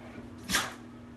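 A dog gives a single short, sharp sneeze indoors, a quick puff of air standing alone against a quiet room background.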